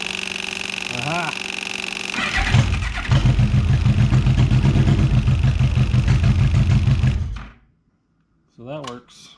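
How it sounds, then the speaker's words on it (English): A 2002 Yamaha Midnight Venture motorcycle starts after a fuel pump replacement, cranking briefly and catching into a loud, throbbing idle that runs for about five seconds before cutting off, with a voice speaking briefly before and after. "Turn your bike on."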